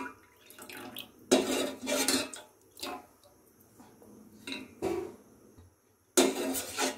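Milk and rice are stirred in a metal pot for kheer, with the spoon scraping and clanking against the pot walls. The knocks come in irregular close bursts, with liquid sloshing between them.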